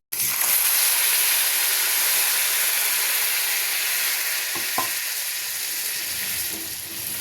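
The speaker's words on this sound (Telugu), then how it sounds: "ఇప్పుడు ఇందులో ఒక 1/2 లీటర్ పాలు వేస్తున్నా." Half a litre of milk poured into a hot pan of fried vermicelli for sheer khurma, giving a loud, continuous hiss and sizzle of steaming liquid that stays close and steady, broken by a couple of brief clinks.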